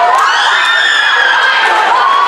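A crowd cheers and shouts continuously after the Panthers win a point in a grand final volleyball match, loud and sustained with high-pitched youthful voices throughout.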